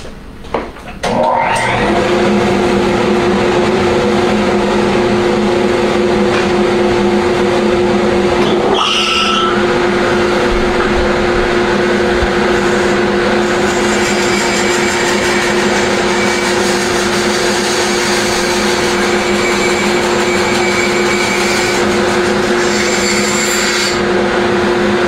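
A power tool cutting into a tire during tire art work, a loud continuous high whine and grinding that starts abruptly and holds steady for over twenty seconds, with a brief change in pitch partway through.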